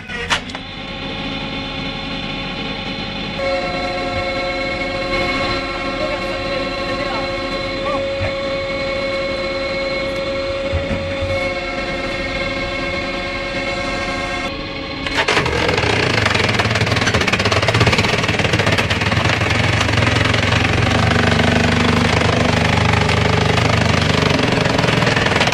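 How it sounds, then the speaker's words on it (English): A BM60TC chainsaw cuts logs into firewood: a loud, continuous engine drone runs throughout, turning rougher and louder about midway as the saw bites harder into the wood. "Introducing the BM60TC, a master in the art of persuading stubborn logs."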